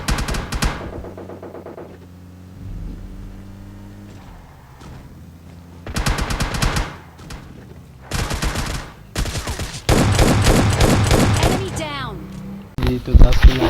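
S12K shotgun fire in the PUBG Lite video game: several loud, sharp bursts of blasts in clusters, with game sounds between and a voice talking over the action.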